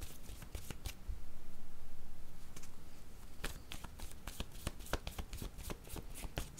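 A deck of tarot cards is shuffled close up, giving rapid papery riffles and slaps in quick bursts. Cards are then drawn with soft flicks, and no voices are heard.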